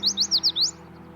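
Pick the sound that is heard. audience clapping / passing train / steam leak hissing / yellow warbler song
yellow warbler song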